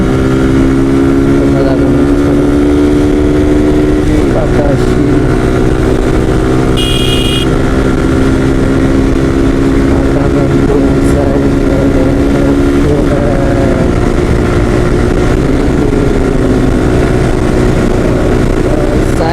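Suzuki Gixxer Monotone motorcycle accelerating hard in second gear, its single-cylinder engine holding a loud, steady drone whose pitch climbs gradually across the run.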